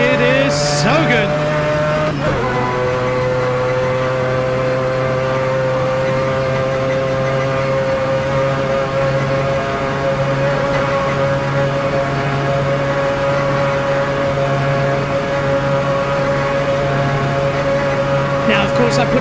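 Mazda 787B race car in a racing video game, its rotary engine holding a loud, sustained high-pitched wail with a brief shift-like dip early on and steady droning tone after.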